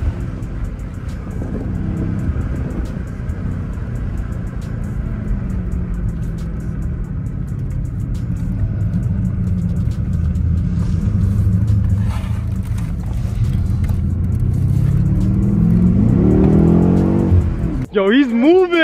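A Lamborghini Urus Performante and a Porsche Cayenne Turbo GT race, heard as a steady low engine rumble that swells toward the end, with excited voices talking over it.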